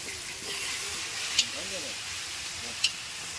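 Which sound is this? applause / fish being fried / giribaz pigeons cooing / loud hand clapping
fish being fried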